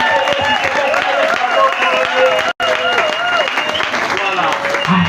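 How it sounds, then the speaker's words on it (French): A church congregation applauds and cheers at a Sunday sermon, dense clapping mixed with crowd voices and strong tonal singing or shouts, steady and loud, with a brief dropout midway. "Est-ce qu'on peut acclamer pour ce Jésus-là? Acclame."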